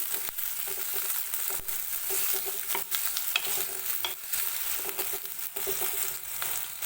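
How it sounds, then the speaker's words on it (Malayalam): Curry leaves being sautéed in a pan with a constant close sizzle, while a spoon scrapes and stirs in an irregular rhythm throughout. "ഇതെല്ലാം കൂടി നമുക്കൊന്ന് വഴറ്റിയെടുക്കണം അപ്പോൾ നമുക്ക് ഇളക്കി കൊടുക്കാം"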